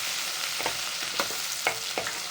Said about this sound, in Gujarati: હવે લવણને આપણે થવા દેવાનું